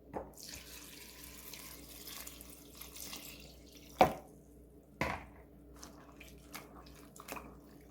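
Water runs from a kitchen tap into a bowl of dried radish strips and pepper leaves being soaked, a soft steady trickle with a few sharp clinks and splashes of handling.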